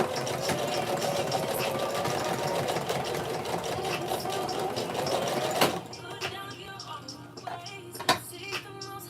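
A sewing machine running a zigzag stitch to attach an elastic band to a girl's skirt: a loud, steady mechanical whir for the first half, then it stops, leaving quieter handling clicks and a sharp tap.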